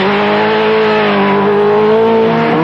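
A turbocharged Renault Mégane rally car of 350 horsepower revs hard on ice at Chamonix, a loud, steady engine drone with rising harmonics held close for the whole stretch.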